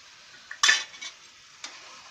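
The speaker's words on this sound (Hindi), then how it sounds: "अब इसको भी अच्छे से मिक्स कर लेंगे इसमें।" Stirring carrot halwa with khoa in a pan: a few close, distinct scrapes and thuds of a spoon against the pan over a faint, quiet sizzle, with gaps between strokes.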